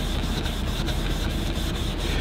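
0000 steel wool rubbed back and forth over an oxidized mirror, a continuous close scratchy rasp with regular strokes roughly every fraction of a second, fairly loud with no talking.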